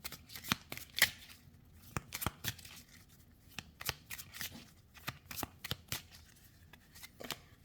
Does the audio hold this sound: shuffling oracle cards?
yes